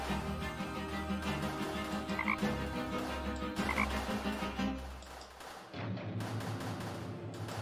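Frog croaking in the video game Chaos auf Deponia, heard as loud, repeated rhythmic croaks layered over a busy game soundscape, dropping away briefly near the end before resuming. No one talks.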